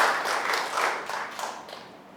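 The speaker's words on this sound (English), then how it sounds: "Let me get a round of applause for my guest, Mr. Robert Viglione." A small gym crowd claps for guest Robert Viglione, Horizen Labs CEO, at the Team La Perla gym in Puerto Rico, a close, moderately loud patter of hands that slowly tapers off.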